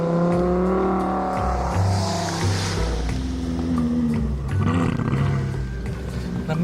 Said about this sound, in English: I can just open the throttle wide in second gear, and it doesn't accelerate at all.